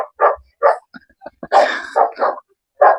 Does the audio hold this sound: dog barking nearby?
yes